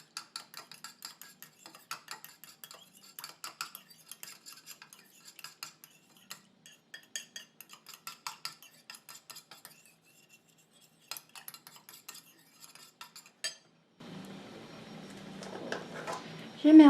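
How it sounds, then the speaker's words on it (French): A homemade face lotion mixture is stirred in a small container, giving a run of light, irregular clinking and scraping taps, close and fairly quiet, before a voice speaks near the end. "Je mélange."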